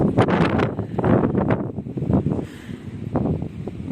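Winter wind gusting through a home garden, buffeting the microphone in loud rumbling bursts with rustling, easing briefly midway before surging again.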